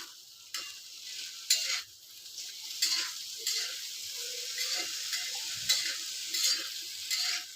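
Sweet potatoes coated with a little ghee roast on a hot griddle, giving a steady bright sizzle with occasional soft scrapes and taps as they are turned, close and continuous, without talk.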